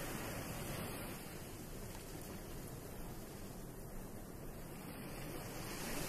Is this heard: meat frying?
no